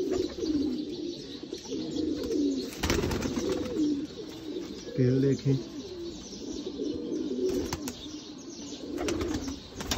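Sialkoti pearl-spotted pigeons cooing in steady repeated rolls, close by, with a brief wing flutter and someone speaking briefly over them.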